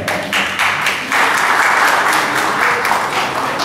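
An audience at a French-speaking gathering applauds itself: loud, dense and continuous clapping from a close crowd, swelling slightly after the first second and holding steady throughout.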